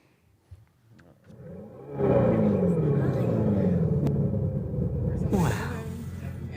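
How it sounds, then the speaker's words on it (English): Amplified synthetic drive sound from an electric car, a deep rising engine-like rumble that swells in and holds loud with music playing underneath. "an amplification of a noise that an electric car, in this case, this electric car already makes"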